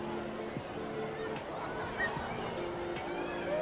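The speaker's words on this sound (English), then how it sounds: "So certainly got the crowd buzzing." Crowd at a 1995 one-day cricket match between New Zealand and India in Napier buzzing steadily, a dense distant babble of chatter running under a commentator's voice.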